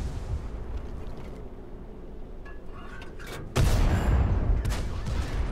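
A heavy tank cannon fires in a World of Tanks-style battle, an IS-2 II, a sudden loud broadband boom cutting in partway through over a steady rumbling battle and engine bed, with no talking.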